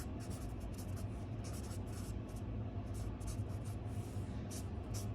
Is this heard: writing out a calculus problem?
yes